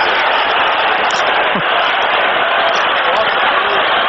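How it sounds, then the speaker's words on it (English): A dense, roaring football stadium crowd reacts loudly and steadily as Kansas City Chiefs' Neil Smith does his home run swing after a sack against the Denver Broncos in a 1998 game; the noise is unbroken and fills the whole stretch. "Crowd reacting to Neil Smith doing his home run swing after a sack."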